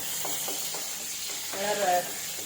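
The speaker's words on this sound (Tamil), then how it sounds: "போட்டு ஃப்ரை பண்ணிக்கலாம்." Curry leaves and dried red chillies frying in oil in a pan, a soft steady sizzle with light stirring, briefly flaring louder near the end, close by.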